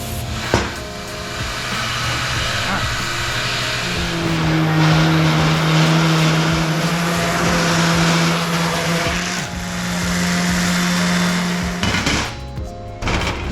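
A DA sander working a cut metal panel on a manual C8 Corvette drift car, a loud steady whirring drone with a humming tone that holds for several seconds before cutting off.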